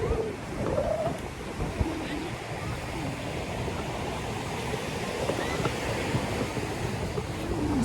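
Ocean surf at Redondo Beach rolls in as a steady wash of waves, mixed with wind buffeting the microphone, while a voice speaks intermittently over it.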